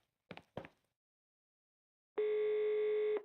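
A steady, clean telephone dial tone sounds alone for about a second before a call to a lab, preceded by two brief clicks or blips and then silence.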